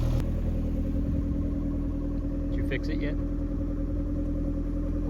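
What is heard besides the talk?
Toyota MR2 engine idling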